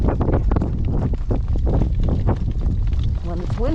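Gale-force wind storm buffets the microphone with a steady, loud roaring rumble that never lets up, and a voice is briefly heard near the end.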